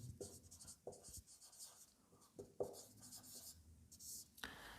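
Chalk or marker writing on a board during a Class 12 maths lesson on derivatives, a series of faint scratchy strokes and taps with quiet pauses between them, alone without talk.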